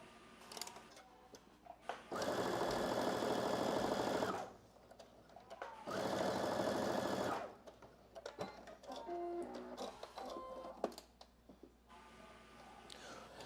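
A home sewing machine runs in two sustained bursts of steady, fast stitching, each about two seconds long, with quieter pauses of handling noise between them.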